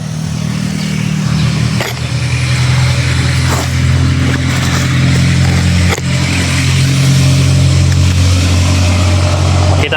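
A motorcycle engine drones loudly and steadily close by, its pitch shifting slightly as it revs, with a couple of brief dips along the way.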